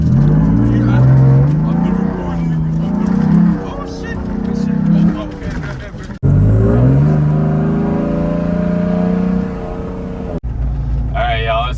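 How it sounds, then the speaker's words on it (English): A Ford F-150 pickup truck engine is revved hard in repeated loud, close surges, its pitch climbing and dropping through several long pulls with brief cut-offs between them. "I'm gonna get some more recordings of me dogging the piss out the F-150."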